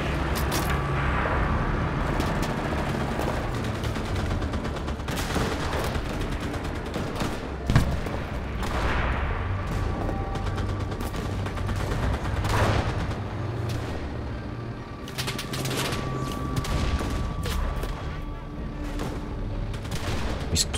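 DP-27 machine gun fire rattles through an urban firefight in the video game Enlisted, with dense overlapping bursts and distant booms continuing without a break.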